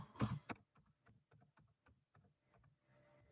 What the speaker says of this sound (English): I'm typing here some numbers